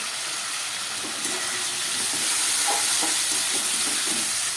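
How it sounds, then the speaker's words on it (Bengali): Water poured into a pan of spice masala with potatoes and tomato, making a continuous hissing sizzle and bubbling that grows slightly louder partway through, close and steady. "সব দেওয়ার পরে একটু জল দিয়ে দিচ্ছি।"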